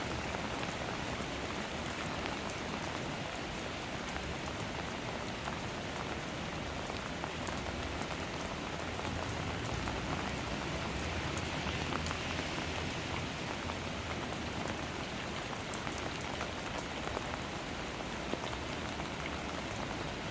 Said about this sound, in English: the rain that was coming from London has now finally hit Sussex